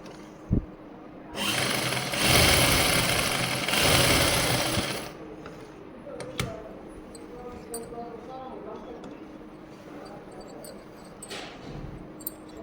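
A sewing machine runs a straight stitch attaching a pocket to a salwar, a loud steady whirring burst of a few seconds followed by quieter handling sounds and soft clicks.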